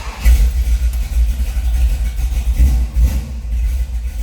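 A 1956 Chevrolet 210 Delray Club Coupe with a pro street engine fires up and settles into a loud, rumbling, lumpy run, close by with no talking.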